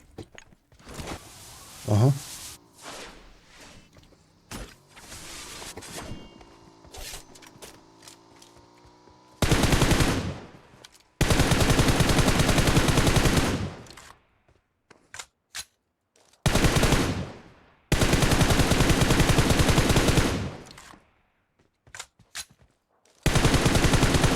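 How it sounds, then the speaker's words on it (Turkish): Bursts of rapid automatic gunfire in PUBG Mobile, several long loud volleys separated by pauses, with a person talking in the quieter stretches between. "Burada sanki bir silah sesi duydum."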